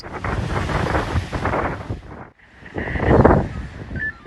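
Strong southwesterly lodos wind roars steadily across the microphone with high waves crashing on the Marmara Sea shore in Istanbul, briefly dropping out before another loud gust and surf swell.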